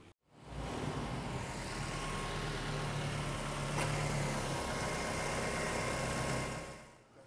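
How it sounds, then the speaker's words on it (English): A car engine cranks briefly and catches, then settles into a steady, close idle with a constant low hum for several seconds before it fades out. "I'll just start the engine up."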